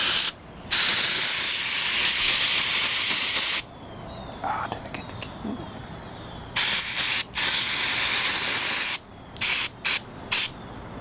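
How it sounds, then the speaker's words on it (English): Aerosol choke and carburetor cleaner sprayed onto a lawn mower carburetor in several long, loud hissing bursts, with brief quiet gaps and short squirts near the end. "now what I'm going to do is actually hit this choke and carburetor cleaner"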